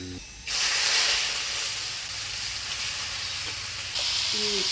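Taro stems dropped into hot tempering oil, a sudden loud hiss that settles into a continuous bright sizzle, swelling again near the end with a faint metallic clink.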